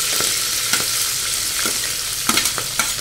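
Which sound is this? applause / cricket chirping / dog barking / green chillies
green chillies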